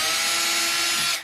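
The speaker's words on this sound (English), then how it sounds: "Going to drill a pilot hole." A power drill bores a pilot hole into a speaker cabinet, giving one steady, loud whirring burst of over a second before it spins down and stops.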